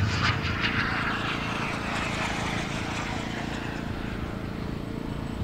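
A model jet aircraft on final approach for landing at a jet meet whines steadily overhead, a sustained engine roar that holds level and slowly fades.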